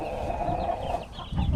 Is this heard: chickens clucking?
yes